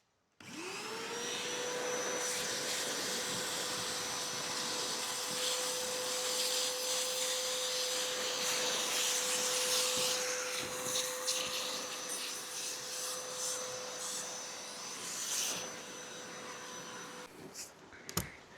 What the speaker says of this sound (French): Bah oui, mais l'aspi, il va l'aspirer ça.